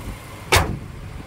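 A car door on a 2019 Proton Saga 1.3 Standard automatic shuts with a single sharp thud midway, set against a low, quiet cabin hum.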